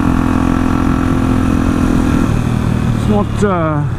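Suzuki GS1000 motorcycle riding along a road at about 100 km/h, a steady droning engine note that drops in pitch partway through, joined near the end by a gliding, rising tone.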